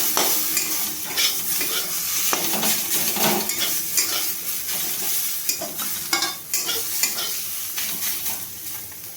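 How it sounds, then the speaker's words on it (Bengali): Ground spices (turmeric, coriander and garam masala) are stirred and fried in a pan for chicken chow mein, a steady sizzle under repeated scraping strokes of a spoon, close by and with no one speaking. "এবার আমি মশলাটাকে ভালোভাবে কষিয়ে নেব।"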